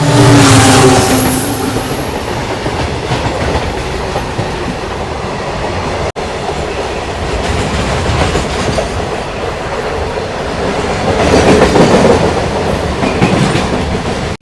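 Hampi Express train from Hubballi to Mysuru running on the tracks, a loud steady rumble with rhythmic clickety-clack of wheels over rail joints, heard close from inside a sleeper-class coach, swelling near the end.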